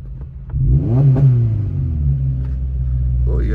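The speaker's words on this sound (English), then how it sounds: "You guys hear that? Car sounds like a beast." Car engine rumbling loudly and revving on a drive along Highway 38 through wildfire burn areas, a deep steady roar that swells after a brief quieter start and holds near and strong throughout.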